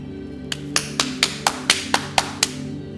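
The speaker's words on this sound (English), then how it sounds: "I gotta clap out the energy sometimes." Hands clap sharply about nine times in a steady rhythm to clear the energy of a room, each clap close and crisp over a faint background hum.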